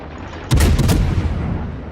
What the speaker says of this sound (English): So I'm either firing too far ahead or too far behind.